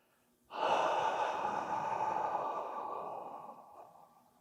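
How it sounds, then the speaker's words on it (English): A person makes one long, gentle breath out through an open, relaxed mouth, a close, airy breathy hiss that starts abruptly and slowly fades over a few seconds. "reach up with your fingertips toward the ceiling as you do a nice long, gentle exhale"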